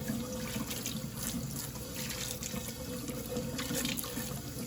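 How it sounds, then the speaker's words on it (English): Running kitchen tap water pours steadily over a pasta container being rinsed, a continuous close splashing and hiss with small bursts as the container shifts under the stream. "I'm giving this a quick rinse to get all that weird stuff out of there."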